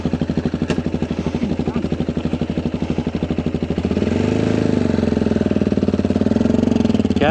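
An adventure motorcycle engine runs in first gear, its pulsing thump rhythmic and close, then rising into a steadier, fuller drone as it pulls away.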